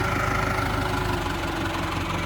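2012 Nissan Navara 2.5 litre four-cylinder turbo diesel running at idle, a steady close clattering rumble with even knocking pulses throughout.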